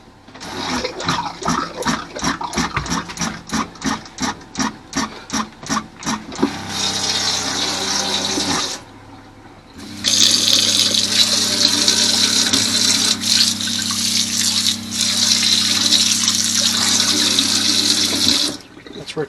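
A water pump starts with a rapid pulsing chatter that settles into a steady hum as water runs, cuts out briefly, then restarts with a loud continuous flow and motor drone, close up with no talk.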